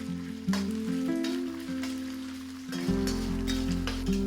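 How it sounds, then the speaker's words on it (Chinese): Fatty pork hits a wok of generous hot rapeseed oil for Sichuan fish-flavored shredded pork, giving a steady, fairly loud sizzle that swells in two bursts as the meat is tossed and stir-fried. "先将肥肉下锅煸炒"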